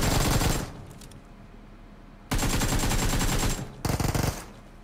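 Automatic gunfire in the mobile battle royale game BGMI comes in three loud, close bursts of rapid shots separated by short pauses, with no talk.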